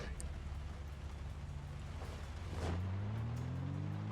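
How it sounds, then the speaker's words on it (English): Steady rain falls in the video game Project Zomboid, a constant wash of hiss with a low engine-like drone rising in pitch near the end, with no talking. "Rain is starting to be less, so we can actually see a little bit ahead."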